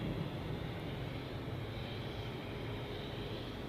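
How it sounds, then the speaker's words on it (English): Ryanair Boeing 737 MAX 8 airliner departing Edinburgh for Copenhagen, a fairly faint, even rumble of jet engine noise with a low hum underneath, steady throughout and free of speech. "So the Ryanair that you're looking at is off to Copenhagen, a Max 8."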